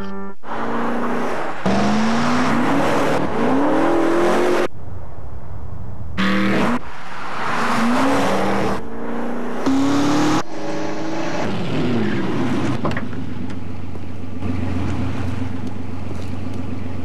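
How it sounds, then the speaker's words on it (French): Dodge Magnum car with a Hemi engine in a TV commercial, loud engine roars and rising revs in several bursts separated by brief gaps, ending in a steady low rumble, with no talking over it. "la toute nouvelle Dodge Magnum, propulsée par son moteur Hemi."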